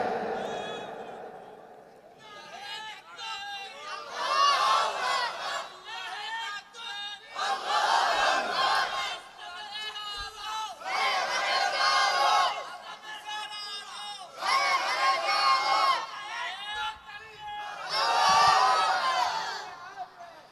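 At an Islamic sermon, a large crowd answers with loud massed chants of takbir in repeated waves. Five or six surges of many voices come over twenty seconds, with quieter murmuring between them.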